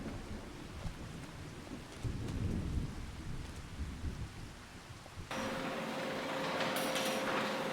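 Steady rain in the Farming Simulator 25 video game, a constant wash of falling water with low rumbles, shifting midway to a brighter, more even hiss with a faint steady hum.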